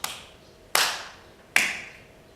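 Three sharp hand claps, evenly spaced about three quarters of a second apart, each crisp and close with a short ringing tail, no voices.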